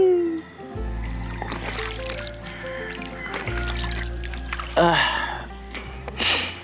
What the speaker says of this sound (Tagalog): Hindi ko maalala kung kailan yung huling pagkakataon na nakapaghilamos ako sa ilog.